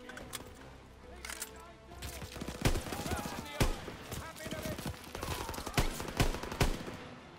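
Dense battle gunfire in the Call of Duty WWII video game, bursts of rifle and machine-gun shots cracking irregularly across the whole stretch amid game noise and shouted voices.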